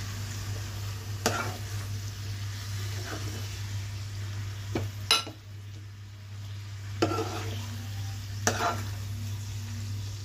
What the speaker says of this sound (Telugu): ఒకసారి బాగా కలుపుదా.